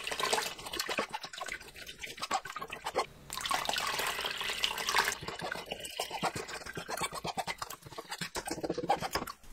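Water is poured over strained, ground ingredients for spring water kimchi to rinse them, giving a soft, continuous splashing and trickling with brief pauses, faint and close.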